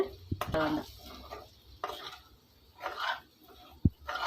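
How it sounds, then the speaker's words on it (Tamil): A spatula stirring potato fry with curry leaves in a pan, bringing soft scrapes, rustles and a couple of sharp metal clinks over a quiet background, with no talk. "போட்டு நல்லா கிளறி விட்டுருங்க"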